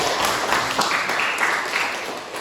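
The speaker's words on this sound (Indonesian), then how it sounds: "Kasih aplaus buat dia." A classroom applauds a student's answer, with a short, soft wash of scattered clapping from a small group that fades quickly.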